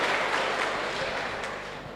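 Audience applause at a campaign rally in Chakan, a dense steady wash of clapping that fades slightly over two seconds, with no speech over it.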